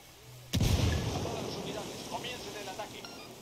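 A frag grenade blasts in Ghost Recon Wildlands with one sudden booming thump that fades into a rumbling tail, followed by faint distant sounds.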